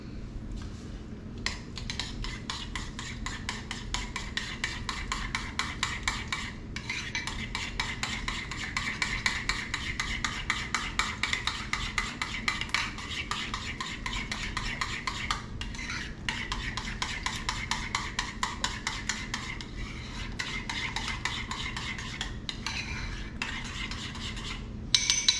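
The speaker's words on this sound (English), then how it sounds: "That lime juice in there. Now you can stir that up." A utensil stirs fish in lime juice in a bowl, producing continuous rapid scraping and clinking against the dish for about 25 seconds, steady and close.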